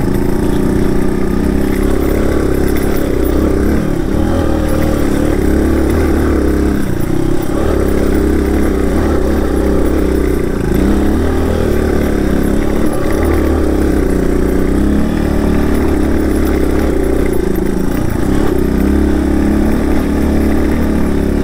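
Two motorcycles, a Kawasaki KLR650 and a Suzuki DR200, ride an off-road trail on Mt. Magazine, their engines droning steadily and close throughout with a low rumbling throb, occasional clatter, and no talk.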